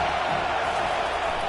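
Football stadium crowd in a CFL video game matchup between the BC Lions and Saskatchewan Roughriders, a steady, dense roar of many voices filling the whole moment without clear peaks.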